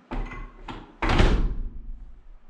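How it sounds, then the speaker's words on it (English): A heavy trimmed-out vault door swings shut with a solid, deep thunk, preceded by two lighter knocks or handling bumps, the close ringing briefly afterward; no talking. "I got the door all completely trimmed out, and man, it closes real well"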